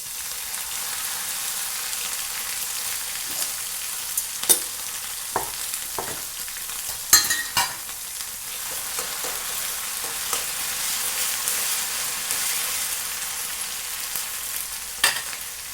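Chopped onion fried until browned, with ginger-garlic paste added to the pan for a bitter gourd (karela) vegetable dish: a steady close sizzle runs throughout, broken by scattered clinks and scrapes of stirring.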